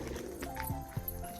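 Rock pigeons coo softly and close by, low throaty rolling calls repeating several times in quick succession over faint background noise.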